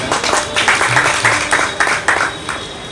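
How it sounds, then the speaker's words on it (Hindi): Loud applause at a stage event, a jayanti celebration, as a poet is called up; dense clapping bursts pulse throughout at close range. "एक बार जोरदार तालियां इनके लिए हो जाएं"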